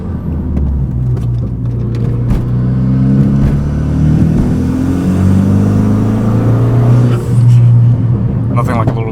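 Renault Megane RS engine pulling hard under acceleration, a close, loud induction roar with rising engine tones that climb steadily and briefly dip before surging again, heard continuously from inside the car.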